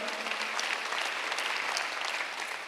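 Church congregation applauding during a Sunday worship service, a steady, even wash of many hands clapping that carries through without a break.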